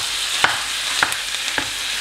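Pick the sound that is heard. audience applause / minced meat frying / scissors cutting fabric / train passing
minced meat frying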